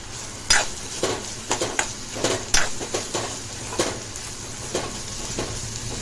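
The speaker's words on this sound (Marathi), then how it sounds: "मसाले आपले चांगले फ्राय झालेले आहे" Spices with turmeric and red chili powder fry in a pan for dried bombil chutney, a low steady sizzle under repeated sharp scrapes and taps of a spoon stirring, close up with no talk.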